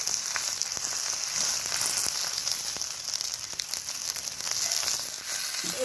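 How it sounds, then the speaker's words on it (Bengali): A rolled cabbage leaf fries in white cooking oil in a pan, giving a steady, soft sizzle throughout with faint crackles and no talking. "এবার একটু তেল দিয়ে দিলাম সাদা তেল তাহলে পাতাটা একটু ভাজা ভাজা হবে"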